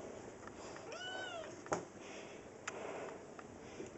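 A domestic cat gives a single drawn-out meow in a quiet indoor room, close and fairly soft, followed by a few faint clicks and taps, with no voices heard.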